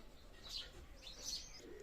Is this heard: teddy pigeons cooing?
yes